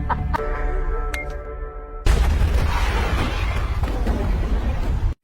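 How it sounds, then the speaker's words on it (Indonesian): A big explosion in a film scene, set off remotely by phone, erupts suddenly as a loud broadband blast after a quieter stretch of background sound, then roars and rumbles on steadily until it cuts off. "ia sudah berada di luar sambil memegang ponsel untuk memicu ledakan besar"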